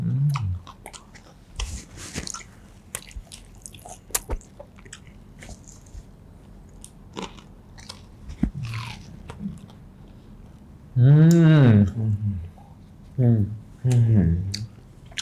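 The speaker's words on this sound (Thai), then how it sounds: "มันยังกรอบอยู่เนาะ" Close, crunchy bites and chewing of a crisp snack, mostly a soft rhythmic crackle at first, then louder voices talking over it toward the end.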